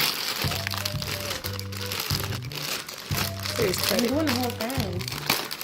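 A plastic Ziploc bag crinkles and crackles in bursts while someone prepares string beans and potatoes in a kitchen, with people talking and a melodic tone running under the rustling.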